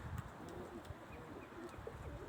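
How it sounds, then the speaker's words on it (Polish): Homing pigeons coo softly at a loft as they return from a 15 km training flight, with low, repeated throaty calls heard faintly against a steady outdoor background. "Schodzą się pomału gołębie."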